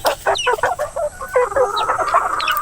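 Native chickens clucking and squabbling while feeding, close and loud, a busy cluster of overlapping clucks and short calls with no talk.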